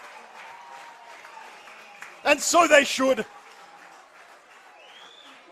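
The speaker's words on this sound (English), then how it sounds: "The crowd erupts" A football crowd at a Sutherland Sharks versus Blacktown City NPL NSW match bursts into a loud roar of cheering and applause after a goal, lasting about a second before fading, with a commentator talking before and after.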